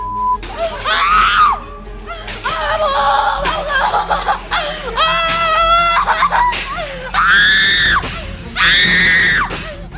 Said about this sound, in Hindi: ये हिंदू बहनें घर के भीतर चीख रही हैं